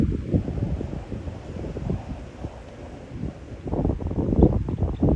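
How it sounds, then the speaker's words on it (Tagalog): Strong wind buffeting the microphone in loud, rumbling gusts that swell and ease throughout, with no voices. "Lakas pa naman ng hangin."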